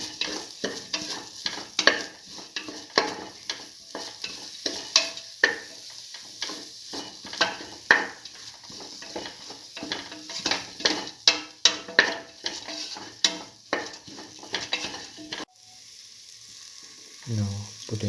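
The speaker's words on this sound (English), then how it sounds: "Saute this." Black lentil and tomato stew ingredients being sautéed in a pan, with a steady sizzle and frequent scraping stirs of a utensil that stop near the end, leaving quiet low thumps.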